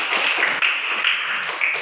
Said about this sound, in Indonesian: Nah, berikan tepuk tangan.